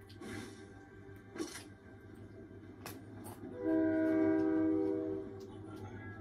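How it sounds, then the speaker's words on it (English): A train in the video game Fortnite sounds a sustained horn blast of about a second and a half midway, amid scattered game thuds and footsteps. "There's a train."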